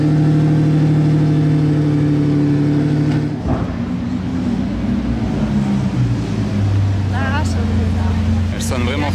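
Lamborghini Revuelto idling and revving loudly in Monaco, a steady engine drone with a sharp change partway through, while people talk over it.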